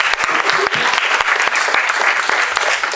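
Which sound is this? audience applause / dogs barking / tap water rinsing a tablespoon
audience applause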